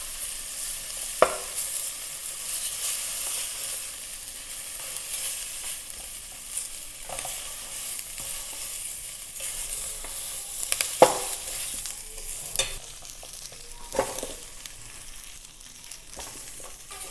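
Tomatoes and onions sear in a hot pan, a soft continuous sizzle broken by several sharp clanks and scrapes of stirring, close by and with no speech.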